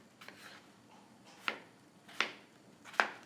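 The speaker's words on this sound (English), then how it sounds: "So we're gonna do nice even cuts." Knife slicing yellow potatoes into even pieces on a cutting board, four distinct, faint chops spaced roughly evenly, close by and without talk.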